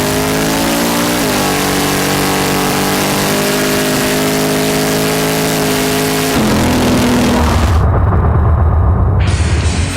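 A Ford XC race car with a 460 big block engine, alloy heads, roller cam and a 1050 Dominator carburettor revs hard and loud at close range, holding a steady roar before bursting into harsher, booming full throttle.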